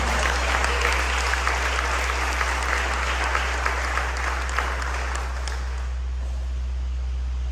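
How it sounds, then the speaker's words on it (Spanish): A church congregation breaks into loud, dense applause at a Spanish-language sermon, steady clapping for several seconds that thins out near the end over a constant low hum. "Podemos dar un fuerte aplauso a Dios por eso."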